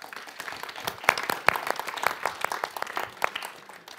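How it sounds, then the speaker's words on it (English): Audience applause after a public research presentation, moderate and somewhat distant, with distinct individual claps standing out over a steady patter throughout. "Please, a round of applause."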